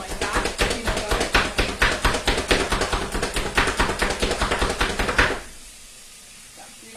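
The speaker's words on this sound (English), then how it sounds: "I like to chop it up really small so my kids don't get any" A knife chops food into very small pieces on a cutting board, producing rapid, steady, close knocks for about five seconds before stopping abruptly.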